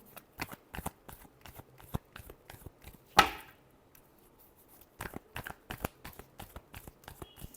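A deck of tarot cards gets shuffled in rapid, dense flicking taps, close and soft, broken once by a sharp louder riffle in the middle before the quick patter resumes.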